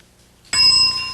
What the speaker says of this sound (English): Describe it at the sound of the bell.